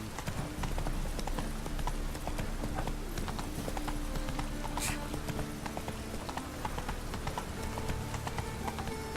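Horse hooves clip-clopping in The Witcher 3: Wild Hunt, a steady rapid rhythm of hoofbeats at an even gait over a constant game background, with a faint voice now and then.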